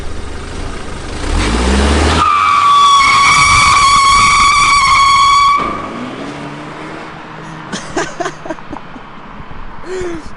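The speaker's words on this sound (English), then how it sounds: "Should I try doing a burnout?" A BMW F30 sedan's engine, on a wrecked car being rebuilt, screams in a sustained high rev for a few seconds during a burnout attempt, then drops back to a lower rumble as voices chatter nearby.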